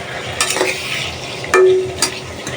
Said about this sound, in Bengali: দুই মিনিটের মতো কষিয়ে তারপর উঠিয়ে রাখবো মাছগুলো